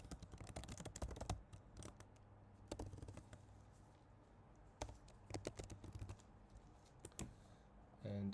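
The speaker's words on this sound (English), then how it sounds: "I'll just type in some sample values here." Typing on a computer keyboard while sample values are entered into a form, with bursts of quick, close key clicks separated by short pauses.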